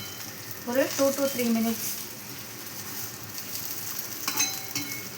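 Oily brinjal curry frying in a pan gives a soft, continuous sizzle with a few stirring scrapes, close by, while someone talks over the first part.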